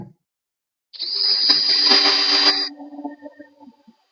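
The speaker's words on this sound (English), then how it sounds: "I have been really surprised at the efficiency and speed that these cut the countersink" A RUKO countersink bit cuts a countersink under a drill, giving one loud, steady whining burst of about a second and a half, followed by fainter rattling as it winds down.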